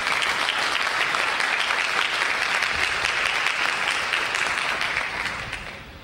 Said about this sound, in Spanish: Todos ellos vamos a recibirlo con un fuerte aplauso.